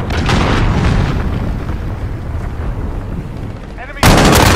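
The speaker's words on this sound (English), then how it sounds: "Allied cruise missile away." A cruise missile strike in a Call of Duty Modern Warfare Team Deathmatch match sends a sustained, heavy rumbling barrage of booms, then a sudden loud, sharp blast near the end.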